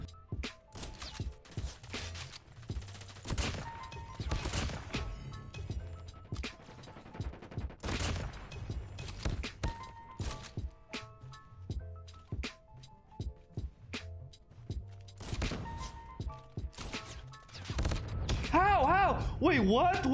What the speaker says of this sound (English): I'm sniping, guys.